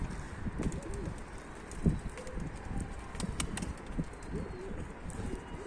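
Pigeons in a loft coo softly and repeatedly against a busy background, with brief wing flaps and scattered chirps from nearby birds.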